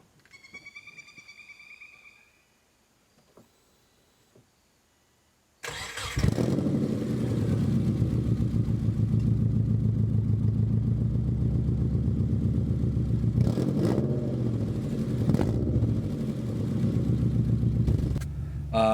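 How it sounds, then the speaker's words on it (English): A few quiet knocks and clicks, then a 2003 Subaru Forester engine cranks and catches, settling into a steady, loud idle that rumbles on with occasional revs. "I'll start the car. You can hear that."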